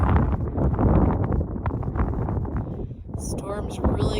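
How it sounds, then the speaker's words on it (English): Strong wind buffets and roars across the microphone in continuous gusts at Pyramid Lake, a desert lake in Nevada, with a voice talking underneath the rumble. "it is definitely very windy out here"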